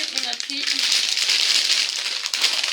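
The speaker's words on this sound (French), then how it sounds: "désolée pour le bruit, parce que je suis en train de retendre le paquet" Plastic packaging crinkles and rustles steadily up close, with a voice briefly speaking at the start.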